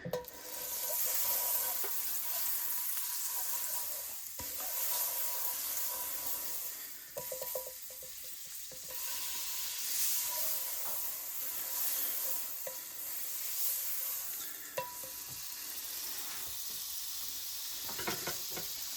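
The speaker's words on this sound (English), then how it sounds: "I'm gonna actually turn down the heat to like medium and get some butter in here" Butter melts and sizzles in a cast iron pan over medium heat before scrambled eggs go in, a steady crackling fry with occasional stirring scrapes running throughout at low volume.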